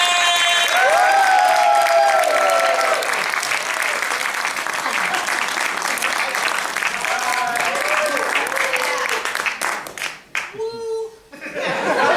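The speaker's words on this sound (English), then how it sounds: "Start clapping those hands for Shelley Coleman" Comedy club audience applauding a stand-up comedian taking the stage, sustained clapping with cheers and some laughter, tapering off as the performer begins speaking.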